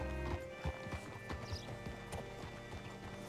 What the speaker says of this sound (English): Hitch your horse up here.